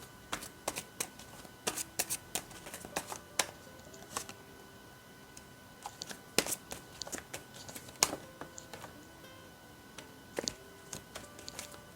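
Tarot cards are shuffled and tapped in quick, irregular bursts of crisp papery snaps and flutters, close and fairly quiet against a still background.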